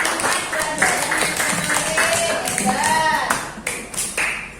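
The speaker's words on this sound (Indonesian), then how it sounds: "Ya, tepuk tangan buat kelas 5 Mas." Schoolchildren in a Year 5 classroom clap their hands together in a rhythmic burst, loud and close, with a teacher's voice speaking over the clapping.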